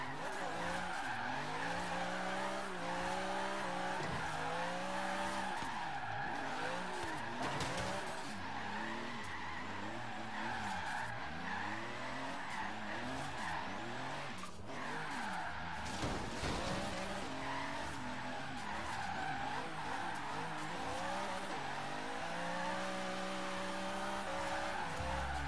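A Lexus SC300 drift build in Forza Horizon 3 screams through a long drift, its revving engine rising and falling over steady, loud tire squeal that continues without a break and with no talking.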